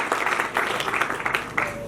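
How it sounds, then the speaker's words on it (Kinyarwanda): A crowd applauds steadily, a dense wash of many hands clapping at once, fairly loud and continuous with no talking. "Reka nsabe bene Muhiga bakumpera amashyi menshi"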